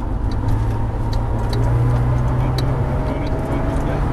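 A Porsche GT3 engine drones steadily and loudly as the car accelerates around a race circuit, a sustained close rumble with a faint voice over it.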